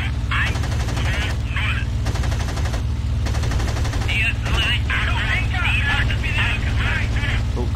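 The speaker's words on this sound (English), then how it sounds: "Oh, got some cannon hits on him." Aircraft cannon and machine gun fire in the IL-2 Sturmovik 1946 combat flight game, with repeated rapid bursts over a steady low engine drone and someone talking throughout.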